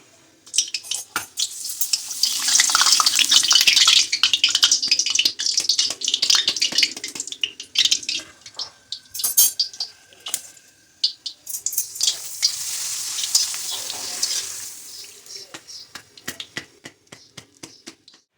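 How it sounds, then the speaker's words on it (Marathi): Papad fries in oil in an iron kadhai, giving a loud crackling sizzle in bursts that fade and swell again, with light clinks of utensils and no talking. "हे तळणाची माझी कढई आहे लोखंडाची सध्याचे पापड तळून घेऊया"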